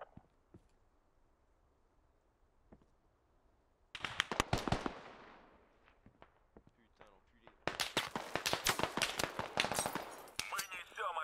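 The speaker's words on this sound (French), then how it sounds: "Ok, je prends des tirs est-sud-est." Gunfire in the Squad military shooter game: faint quiet stretch, then bursts of rapid automatic shots and single cracks, loud and dense in two long volleys.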